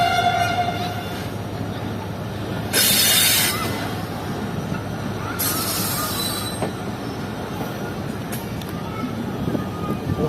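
The Shah Latif Express passenger train rolls along the Karachi line with a constant rumble of wheels on rails. Two loud, high metallic squeals break through, and people talk over the noise.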